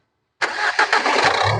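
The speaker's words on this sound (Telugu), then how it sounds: "సింగిల్ సెల్ఫ్ అయితే బండి స్టార్ట్ అవుతుంది సార్." A 2016 Renault Duster RXZ automatic with 68,000 km fires up after a brief silence, catching at once and settling into a loud, steady idle with a few early pulses.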